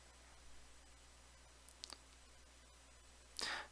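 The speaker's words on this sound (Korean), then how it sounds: "여기에서 열 머리 두 번 클릭" A computer mouse gives two small, quick clicks in a quiet room, followed a moment later by a brighter, slightly louder burst of clicking.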